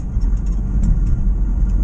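Air-cooled engine of a VW camper van idling at a slightly fast, steady rate, a continuous low rumble close by with no talk over it.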